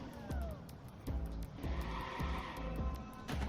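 A car in the Watch Dogs game is shoved into a set of traffic lights, with engine drone, tire squeal and a series of sharp metallic crunching impacts in quick succession.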